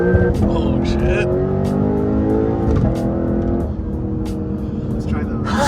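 Lexus RC F driven hard with braking, steady engine drone and road roar from inside the cabin with faint tire noise, while people talk over it throughout.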